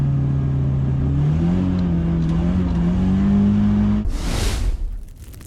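A Turbo Coupe spinning its rear tires in a burnout, the engine held high and steady while the revs climb slowly, then a loud burst of tire squeal and rushing noise near the end before it fades.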